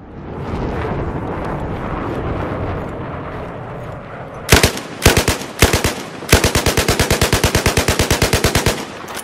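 A U-100 MK5 light machine gun fires in Battlefield 4, loud close short bursts and then a long rapid rattling volley of evenly spaced shots over a low ambient background, no talk.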